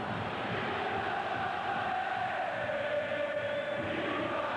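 Stadium crowd at a football match between AS Roma and AC Milan, a broad continuous roar that holds steady at a distance with no distinct break.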